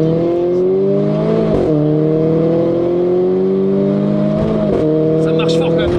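Renault Clio 4 RS stage 3 engine revving with exhaust valves closed, a steady muffled drone with two brief blips in pitch, close and loud under a voice.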